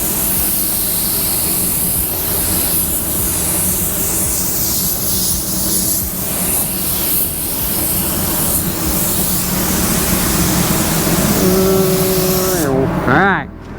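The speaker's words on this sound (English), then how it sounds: "I just spray a coat of base coat blender over it" A paint spray gun applies base coat blender in continuous, fairly loud hissing bursts with a steady airy rush, ending with a brief tonal whine as the spraying stops.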